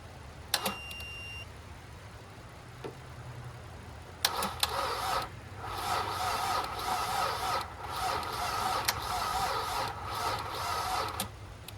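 An abandoned car left sitting for years cranks on a weak battery: a beep, then a sluggish, uneven starter motor grinding that comes in bursts, fairly quiet and close.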